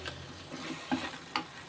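Oil-fried idli stirred with masala gravy in a pan, soft sizzling under a few scraping clinks of the spoon, quiet and close.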